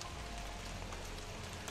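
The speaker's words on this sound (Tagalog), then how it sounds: "parang palakas ng palakas yung ulan" Heavy rain pouring steadily and growing stronger, a dense, loud, continuous wash of drops hitting surfaces close by, with no talking.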